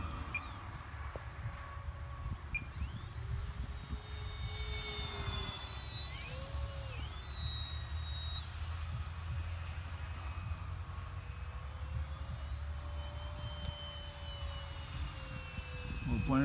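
A small model Hawker Hurricane/Tempest airplane's motor whines high overhead, its pitch swooping up and down as it passes, over steady low wind rumble.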